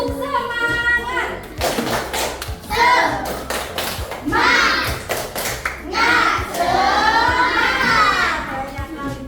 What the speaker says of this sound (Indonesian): mana coba tepuk semangat